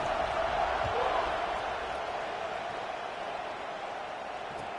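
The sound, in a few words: football stadium crowd buzzing after a score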